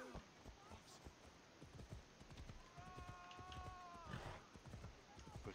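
Horse hooves in Assassin's Creed Odyssey clip-clop at a steady trotting rhythm, close by, with a brief horse whinny partway through.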